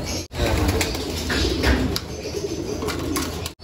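Pigeons in a loft, parent birds and their squabs feeding together, with steady soft cooing and rustling close by, a brief burst of wing movement now and then, and no voices.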